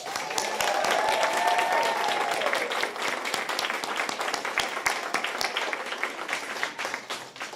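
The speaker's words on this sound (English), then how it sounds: "let's give a round of applause to all the brave kids here who got their shots" An elementary school audience in Virginia applauds the children who received vaccinations, with dense sustained clapping that starts full and slowly thins into scattered claps, a faint tone sounding briefly near the start.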